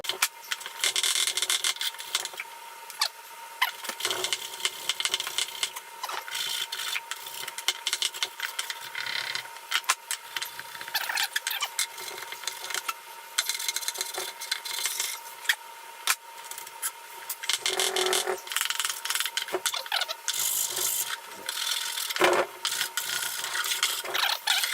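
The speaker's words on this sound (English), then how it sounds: "I want to put a hole in the wood here." A hand tool bores a hole in wood for a lighthouse model build, a long, steady rasping grind with rhythmic scraping strokes, close up and alone.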